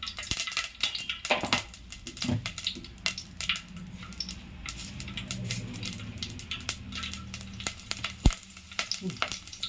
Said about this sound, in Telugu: మనం సాంబార్కి తాలింపు వేసుకున్నాం రండి